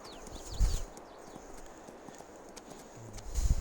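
A horse named Yankee being ridden in Farming Simulator 22, a few soft, distant hoof clops at an unhurried walking pace, with light background ambience.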